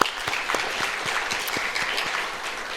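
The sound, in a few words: congregation applauding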